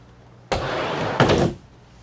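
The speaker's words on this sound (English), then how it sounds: "nice glass door that slides open." A sliding glass door opens into the cabin of a Saxdor 400 GTC boat, giving a steady rolling slide of about a second that ends in a brief louder rumble as it comes to a stop.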